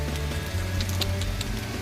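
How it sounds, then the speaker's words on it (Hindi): Heavy, steady rain pours continuously, a dense, even wash of noise with a low hum underneath and no voices. "आज बहुत कर्रा बारिश हो रहा है बहुत लगातार बारिश हो रहा है"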